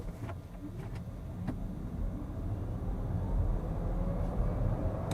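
A Volkswagen ID.4 electric SUV with rear-wheel drive accelerates hard from standstill to 70 km/h on a wet road. A low, steady cabin rumble of road and tyre noise swells gradually, with no voices.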